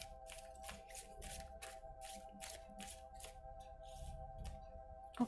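Tarot cards are shuffled and drawn in a steady run of soft, papery slaps and swishes, close and quiet over a low hum, with a small knock at the end.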